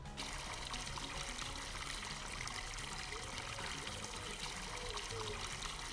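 Water pouring from a bucket in Farming Simulator 22, a continuous, steady rushing stream that stays constant throughout without pauses.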